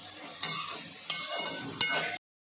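Chopped onions and tomatoes frying in a pan, a steady bright sizzle broken by a few sharp scrapes of a spatula stirring, close and moderately loud, then stopping abruptly.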